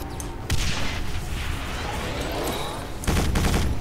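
A new weapon fires in Quake 4 during hover tank play: two heavy booming blasts about three seconds apart, with a rumbling, hissing wash sustained between them.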